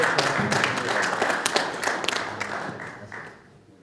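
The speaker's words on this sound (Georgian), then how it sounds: "აპლოდისმენტები მებრძოლებს." Crowd applause for two fighters squaring off at a combat-sports press conference: a dense burst of clapping that holds for a few seconds, then thins and fades out.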